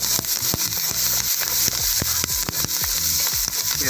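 Curry leaves fry in hot oil with a constant sizzling hiss and scattered sharp crackles and pops, close and steady throughout.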